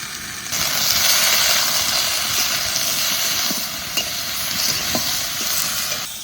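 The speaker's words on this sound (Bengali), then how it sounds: "আস্তে আস্তে নাড়াচাড়া দিয়ে পটলটা সুন্দর করে ভেজে নেবো।" Young pointed gourd (potol) frying in oil with salt and turmeric, stirred slowly: a steady broadband sizzle runs throughout, with occasional soft scrapes and clicks of the spatula in the pan, close and continuous with no talk.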